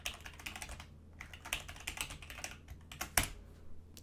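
Rapid keystrokes on a computer keyboard while entering an account password, close and quiet, in irregular bursts with brief pauses and one sharper key hit near the end.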